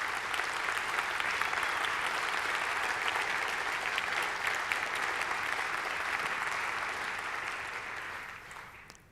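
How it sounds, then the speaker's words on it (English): Audience applause at a tech conference presentation in London, a sustained even wash of clapping from a seated crowd that fades out near the end. "please stand up and give you guys a round of applause"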